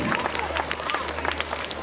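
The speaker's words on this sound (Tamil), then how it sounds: "கைதட்டுங்க அத்தனை குழந்தைகளுக்கு" Brief burst of audience clapping for the children at a school annual day, quick uneven claps forming a steady patter, fairly close and without talk.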